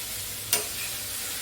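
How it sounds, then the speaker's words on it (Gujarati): Salted parwal and potato curry is stirred in a pan, a steady low sizzle broken by two sharp scraping strokes of the spoon against the pan. "મીઠું નાખીને પણ હલાવી દઉં"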